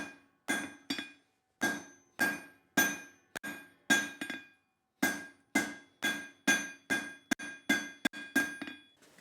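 A steel bar is forged, its end hammered square: a close, ringing series of about twenty sharp hammer blows in uneven bursts, each with a metallic clink and brief decay, and no talk.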